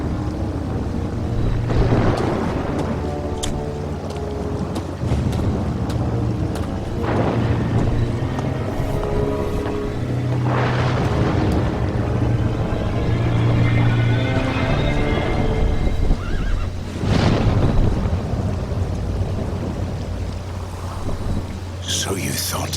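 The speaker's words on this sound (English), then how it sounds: "They will not find us in such a storm as this." Storm ambience from the video game Two Worlds: steady rain and wind with rolling thunder swells, under a continuous musical score and a spoken voice.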